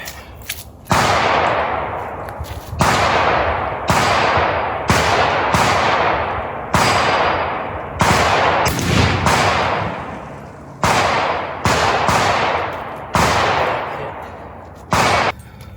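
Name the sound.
gunshots from an original Winchester 1873 lever gun, 44-40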